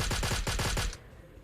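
A rapid burst of about eight gunshots in PUBG Mobile Lite, loud and evenly spaced, cutting off sharply into near silence.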